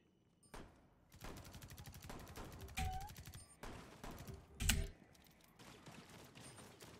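Alien creatures fire on players in the video game Rainbow Six Extraction, a run of rapid, crackling gunfire bursts with a couple of sharper, louder shots standing out near the middle and end.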